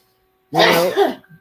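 One loud, close sneeze of about half a second bursts out of a quiet room, followed by a short faint exhale.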